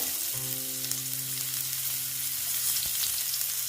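Onions and cumin powder fry in a pan while a breakfast dish is cooked, giving a loud, steady sizzle that runs the whole time with no talking.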